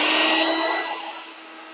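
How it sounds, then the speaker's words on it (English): A small shop vac sucks debris off a modeled water surface, making a close, steady airy whine that drops in pitch and loudness as it winds down. "to pick that up, I just use a small shop vac"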